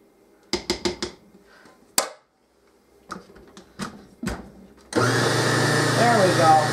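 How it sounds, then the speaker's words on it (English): Blender grinding onion and beans for fritter batter: after some clicks and knocks during setup, the motor roars on abruptly and holds a loud, steady whir to the end. "I just thought my blender would be nice."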